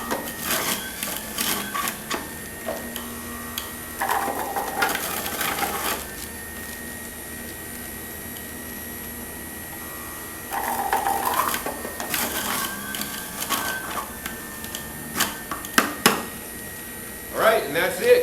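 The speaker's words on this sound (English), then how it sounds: "we're almost done juicing the carrots in the Omega 4000 juicer" An Omega 4000 juice extractor whirs steadily while juicing carrots, with bursts of grinding and rattling as carrot pieces are fed in, and scattered clicks and knocks toward the end.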